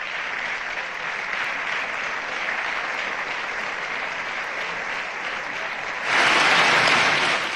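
Steady parliamentary applause for Spanish Socialist leader Pedro Sánchez, many hands clapping evenly, then swelling suddenly louder and brighter near the end, with no speech over it.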